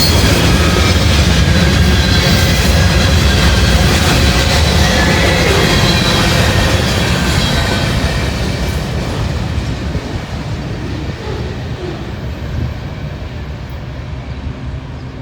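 Freight train hauled by Norfolk Southern locomotives, with cars carrying rolls of steel, rumbles past close by in Glendale, loud steady roar with rattling cars that slowly fades toward the end.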